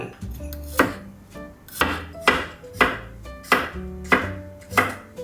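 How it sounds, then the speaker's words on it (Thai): A knife slices garlic on a cutting board with sharp, evenly spaced strokes, about one per second, close and clear with no talking. "หั่นกระเทียมให้เป็นแว่น"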